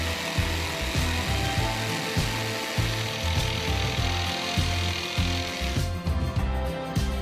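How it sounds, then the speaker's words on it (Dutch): A jigsaw buzzes steadily through wood with rhythmic cutting strokes, loud and close, with no talking. "gebruikt een decoupeerzaag om de vorm uit te zagen"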